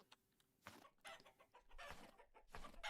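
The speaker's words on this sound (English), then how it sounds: "I haven't been feeding the chickens at all." Chickens cluck in the survival video game Vintage Story, several short bursts of fowl clucking coming in a loose irregular rhythm, fairly quiet and heard alone.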